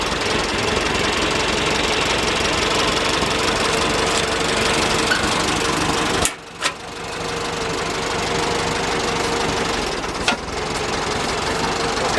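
A 1973 square body truck engine revived after sitting parked for over 20 years runs with a rough, steady knocking clatter close by, briefly dropping out once before picking back up, with a sharp tick near the end.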